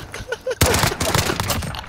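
Gunfire in a multiplayer shooter game, a sudden burst of rapid shots that breaks in after faint game noise and keeps crackling, loud and close.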